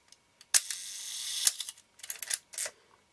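A Nikon F film camera's advance lever is wound by hand, giving a few close, crisp bursts of mechanical ratcheting and clicking with short pauses between, and no talking.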